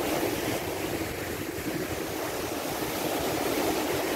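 Red Sea waves along the Jeddah Corniche wash in a steady, loud broadband roar with heavy wind buffeting the microphone, continuous throughout with no talk.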